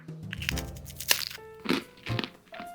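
Close, loud crunching bites into a crunchy Japanese snack seasoned with soy sauce and dusted with sugar, several distinct crisp cracks spread across a few seconds with no talk.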